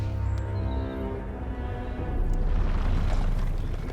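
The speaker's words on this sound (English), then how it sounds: "I guess now you get to use the cannon." Cannon firing in the video game Wild Hearts, a deep booming blast with a rumbling tail, followed by a second, noisier burst that rolls on loudly amid game sound.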